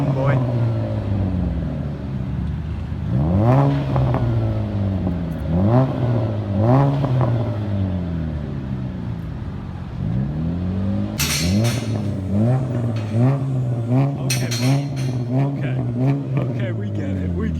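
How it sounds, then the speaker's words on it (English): Car fitted with a loud aftermarket ricer-style exhaust revs repeatedly nearby, rising and falling in several sharp bursts with a rough engine note, while people talk over it. "This guy over here with the ricer exhaust."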